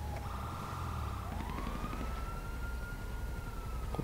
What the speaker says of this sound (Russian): Так, я слышу сирены.